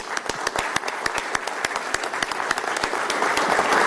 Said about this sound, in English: So a big round of applause for all those that helped out.